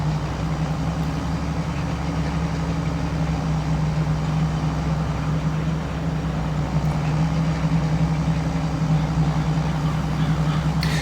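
Tractor engine of about 190 horsepower from Farming Simulator 22, running steadily with a low, even drone that holds constant and fairly loud throughout, with no talk over it.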